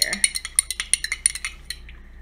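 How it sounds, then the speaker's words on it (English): A spoon clinks rhythmically against a dish or glass while stirring Norwex detergent into warm water, a quick series of bright taps that slows and fades out. "I'm just going to put it in the water, stir it up"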